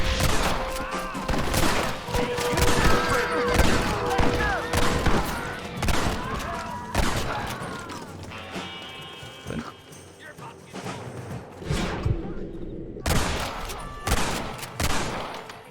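Rapid gunfire crackles through a Red Dead Redemption scene, dense bursts of shots with sheep bleating and a voice talking over the chaos, loud and close before thinning out.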